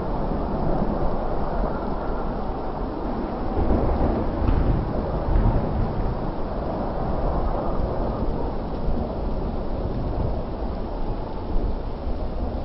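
A thunderstorm with steady, loud rain and low rumbling thunder that swells around the middle, continuous throughout with no voices.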